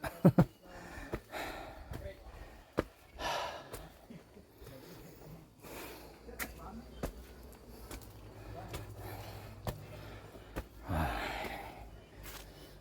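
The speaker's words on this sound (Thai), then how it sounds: "เสียงหอบก็จะมาบ่อยนะ" Heavy, repeated panting and gasping breaths from someone climbing toward a hilltop pagoda at a Buddhist dharma park, close and uneven, with footsteps and faint outdoor ambience, and occasional talk in between.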